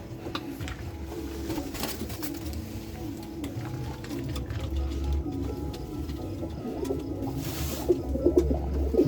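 A released pigeon pair coos in low, repeated throaty rolls close by over a constant outdoor murmur, with faint fluttering and pattering near the end.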